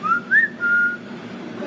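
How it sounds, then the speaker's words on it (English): A person whistles a short tune in three bright rising and sustained notes, near and clear, over a low background hum. "Actually, you whistle pretty good"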